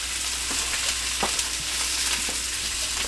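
Conecuh sausage frying in a pan, a steady close sizzle and crackle punctuated by a few sharp pops and light stirring clicks, with no talking.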